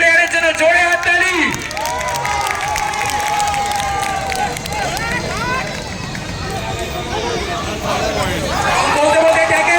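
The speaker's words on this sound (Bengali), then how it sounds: "7 নম্বর জার্সি আর এই প্লেয়ারের জন্য জোরে হাততালি" Spectators at an inter-district kabaddi final between Nadia and Malda clap and cheer for jersey number 7, a noisy crowd roar with scattered clapping running under continuous live commentary.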